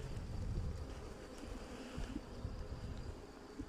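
Honeybees buzzing at a strong hive on an off-grid property in central Portugal: a faint, continuous insect hum without pause, heard alone with no voices.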